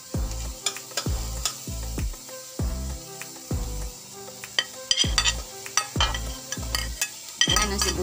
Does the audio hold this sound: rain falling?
no